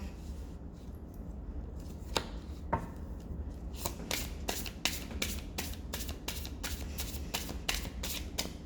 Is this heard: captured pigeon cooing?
no